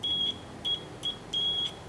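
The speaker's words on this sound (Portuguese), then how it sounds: "Com essa escala de BIP, você testa a maioria dos componentes da placa-mãe do notebook" A multimeter set to continuity mode beeps four times in short, uneven tones, some brief and one held longer, close and clear against a quiet background.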